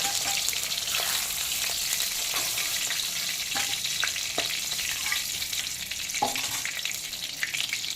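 Green banana slices sizzle and crackle steadily in hot oil in a pan, a continuous close frying hiss with occasional soft clinks of a utensil stirring.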